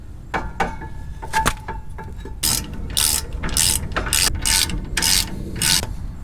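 Ratchet wrench clicking as caliper bracket bolts are tightened on the rear brakes of a RAM 1500, starting with short sparse clicks, then several loud, rapid bursts of ratcheting close up with brief pauses between strokes.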